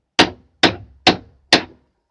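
Small metal hammer tapping a wooden tool handle to loosen it in a traditional woodturning shop, four sharp, evenly spaced strikes, close and loud with no voices.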